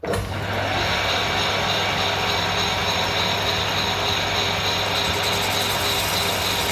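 A metal lathe takes an inward cut with a high-speed steel cutter, producing a steady, loud mechanical whirr and hiss of cutting that runs without pause.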